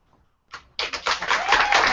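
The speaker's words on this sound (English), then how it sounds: "big round of applause" Applause from an audience at a political fundraising event with music, rising quickly from a few claps into a steady, dense round of clapping that continues to the end.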